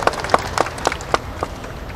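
A few sparse, separate handclaps ring out in a near room, spaced about every quarter to half second in an uneven rhythm, with no crowd swell behind them, as an audience begins applauding a guest named Mas Tio at a Pertamina business talk.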